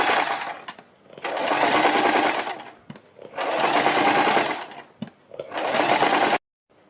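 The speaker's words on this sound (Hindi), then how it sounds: "सबसे पहले हम यहाँ से यहाँ तक एक सिलाई लगाएंगे" A sewing machine stitching the neckline of a suit in three loud, steady whirring bursts separated by brief pauses, close up, ending abruptly.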